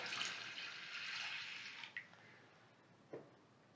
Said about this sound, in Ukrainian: Рис промийте, залийте водою.